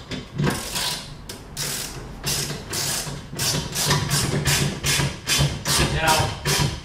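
A socket ratchet driving lag screws into wood wall studs while mounting a wall unit, a loud, close run of steady rhythmic clicking strokes repeating roughly twice a second throughout.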